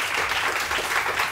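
A TV studio audience applauding on a morning show, a short continuous burst of many hands clapping, fairly loud and even.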